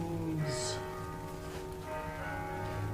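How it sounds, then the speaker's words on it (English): Church bells ring faintly in the background of a kitchen, their tones sustained beneath a steady low hum with no talking. "The bells, the bells."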